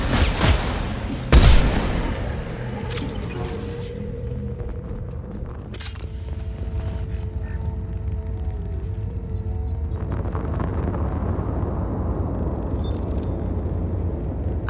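Gunfire in the video game Mass Effect 2, with a loud burst near the start, then continuous combat noise, mechanical hums and scattered impacts through the rest of the clip.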